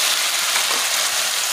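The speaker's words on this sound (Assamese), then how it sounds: "পিঁয়াজকণ দি অকণমান ভাজি ল'ম।" Chopped onion sizzles in a hot pan, giving a steady, close, bright hiss of frying with no voices over it.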